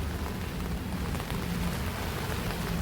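Steady rain falling outdoors onto a partly shaded open area, a constant dense patter on surfaces that stays even and fairly loud throughout, with no voices.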